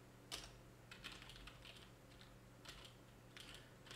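Quiet, irregular keystrokes on a computer keyboard while playing Bitburner, with short clusters of clicks over a low steady hum.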